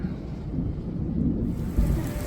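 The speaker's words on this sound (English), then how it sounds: "It's raining right now." Rain falling outdoors at Epcot as hurricane preparations get under way, a steady soft wash of noise with low rumbling gusts and wind buffeting, fairly faint and continuous.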